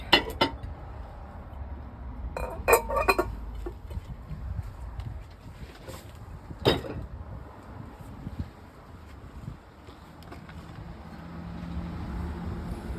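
Ceramic pottery, including handmade serving bowls, clinks and knocks while being lifted out of a kiln, a few sharp scattered contacts over a quiet, faintly windy room background.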